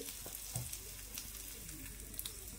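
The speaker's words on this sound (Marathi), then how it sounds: "आता ही साइड सुद्धा थोडीशी भाजून घ्यायची।" Kolhapuri khandoli roasting in a pan over low heat gives a soft, steady sizzle with faint crackles and a few light scraping touches, alone without talk.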